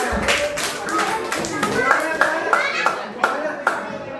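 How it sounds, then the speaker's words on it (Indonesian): Children in an Islamic religious lesson about the Quran clap together in a quick, uneven rhythm while voices speak over the claps close by. "Tepuk tangannya."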